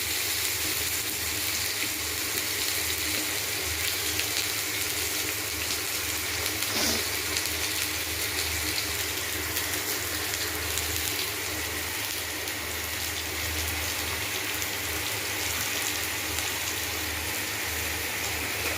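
Mustard seeds and onion frying in hot oil for a Tamil snake gourd and cumin kuzhambu, a steady close sizzle and crackle that stays loud and even throughout with no talk over it.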